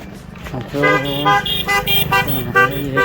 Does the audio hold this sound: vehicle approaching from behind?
yes